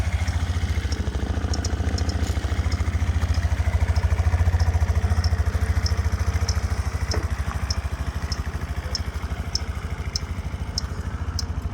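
A Suzuki Address V125 G scooter engine idles steadily up close, a continuous low buzzing drone with faint ticking clatter over it and no speech.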